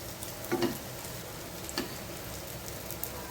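Chicken kabab tikki frying on a tawa, a soft steady sizzle with a few faint pops and scrapes, no talking.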